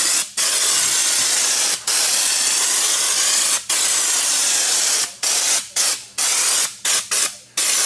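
Raptor liner coating sprayed from a spray gun in long continuous hissing passes, loud and close, with brief pauses between bursts and several short spurts toward the end.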